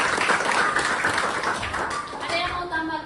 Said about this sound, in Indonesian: tepuk tangan buat Luwinik.